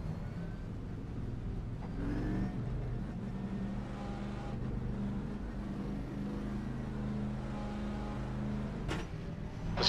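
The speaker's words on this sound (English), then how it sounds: "There's a car approaching." A race car engine drones in a racing video game, a low steady hum with rising and falling pitch as a car approaches on track in the pit lane, moderately loud and continuous.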